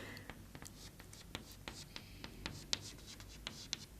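A pen or pencil scratches across paper while a data handling bar graph is drawn by hand for a class 6 maths lesson, giving short, quiet, irregular strokes and taps close to the microphone.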